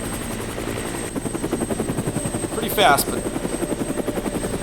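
A helicopter drones steadily with a fast rhythmic rotor chop, fairly close, while someone talks over it.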